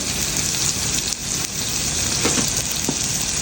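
Steak sizzles loudly in a pan, a dense, steady close-up hiss with a few crackles rising above it.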